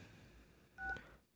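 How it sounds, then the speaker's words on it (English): DTMF keypad tones from a Samsung Galaxy S25 phone app, a short pair of clean beeps around the middle, fairly faint and with no talk over them. "We need to dial one number."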